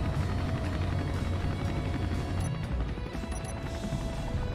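Chinook helicopter flying in the game Space Engineers, a loud, steady rotor thrum with rapid low chopping and engine drone that fills the whole stretch without talking.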